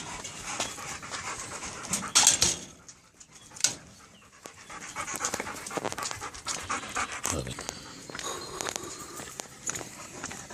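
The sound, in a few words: dog panting and whimpering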